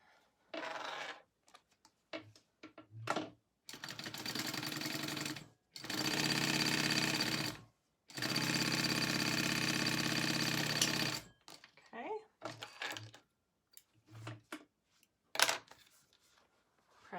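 Sewing machine stitching fabric pieces of a wallet together in several steady bursts, each a few seconds long, with short pauses and light handling noise between runs.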